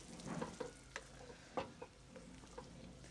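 A spoon stirs Bengali-style chicken vegetable soup seasoned with black pepper, giving faint, sparse scrapes and clinks against the pot over a quiet background.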